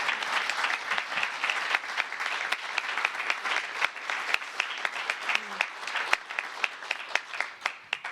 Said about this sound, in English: let us all give you a big round of applause for many reasons